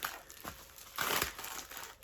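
Someone unpacks a plastic parcel bag, and the plastic crinkles and crackles up close in quiet bursts. A louder rustle comes near the middle.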